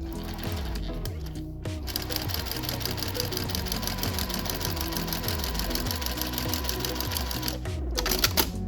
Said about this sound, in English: we're going to sew right along the edge of the inside fold to keep it down